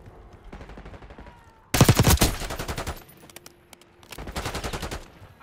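Bursts of rapid automatic gunfire from an XM4 rifle in Call of Duty Black Ops 6, with one loud sustained burst, a quieter gap with scattered shots, then a second strong burst.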